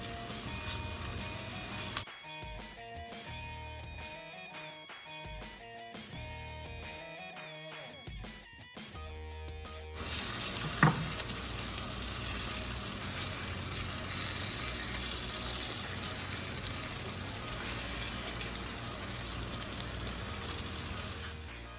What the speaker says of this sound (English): Then I start adding my meatball.